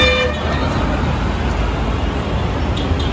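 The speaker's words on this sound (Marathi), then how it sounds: "आपल्या शेतची गाडी चालली" A farm tempo vehicle rolls past on a road, giving a short horn toot at the start over a loud, steady engine and traffic rumble that fills the whole moment.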